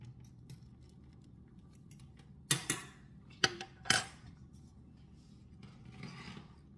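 A utensil stirs thin trapanese sauce and pasta in a pan, giving a few sharp metallic scrapes and clinks in quick bursts, close up over a low background hum.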